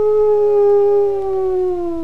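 Big grey wolf from a Czech fairy-tale audiobook, one long loud howl held steady, then gliding slowly downward, close and alone.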